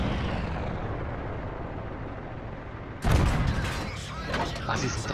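Artillery fire in the tank game World of Tanks on the Ensk map, one sharp heavy blast cutting through a steady engine drone, followed by rumbling debris and echoes.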